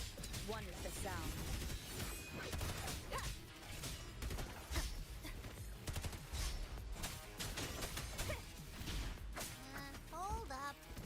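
Muffled gunfire from behind a door in the Wuthering Waves video game crackles in dense, rapid bursts alongside clanks and crashes, with voices and other game sounds mixed in throughout.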